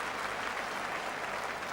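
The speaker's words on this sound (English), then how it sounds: "a deserved round of applause here for this 26-year-old school teacher" A football crowd at an Ipswich Town v Landskrona UEFA Cup tie applauds a player, a broad, even wash of clapping from a distant stadium that holds steady throughout.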